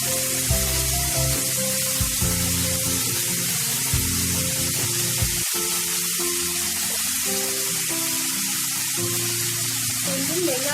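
Onions fry in a pan with a continuous loud sizzle and hiss, cooking for Chettinad chicken fry, with a low steady hum beneath and one brief dropout partway through.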